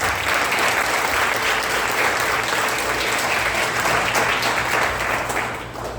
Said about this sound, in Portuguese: Vamos aplaudir a palavra de Deus bem forte